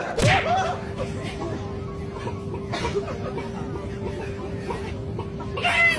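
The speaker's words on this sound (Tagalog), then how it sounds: "Manok tapos yung sumabat parang mga pabo." Chickens clucking and fowl calls with a rooster-like crow near the start, plus a few thumps, all under steady background voices and a continuous tone throughout.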